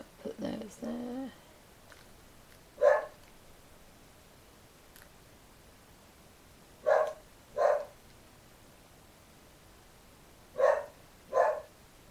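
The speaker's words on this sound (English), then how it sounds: "apologies about the deaf dog barking to himself" A deaf dog barks in scattered single and double woofs, moderately loud, with rustling and brief muffled talk near the start.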